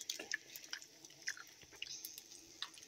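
Crunchy chewing of crispy pork skin, close and fairly quiet, with irregular wet bites and crackles repeating over a few seconds and no talking.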